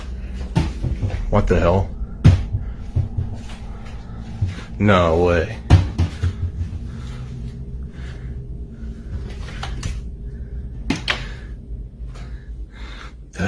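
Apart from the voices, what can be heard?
kitchen cabinet door opening and closing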